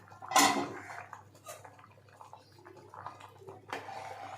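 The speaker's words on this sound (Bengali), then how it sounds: "এবারে ঢাকনাটাকে তুলছি" A metal lid is lifted off a pot of dalia khichdi boiling on a stove, giving one sharp clink followed by faint bubbling and a softer knock near the end.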